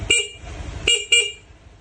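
The stock horn on a Honda Click V3 scooter beeps three times up close, one short honk followed by two more in quick succession.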